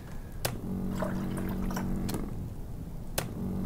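Water drops falling in the horror game My Friendly Neighborhood: a few sharp, isolated drips spaced apart over a steady low ambient hum, fairly close and clear.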